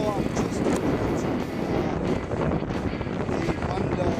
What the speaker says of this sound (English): I'm kind of sprinting here because I'm right in the gust front, and the thunder and lightning is right behind me.